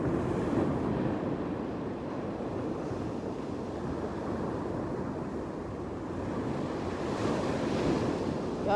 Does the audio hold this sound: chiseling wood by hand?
no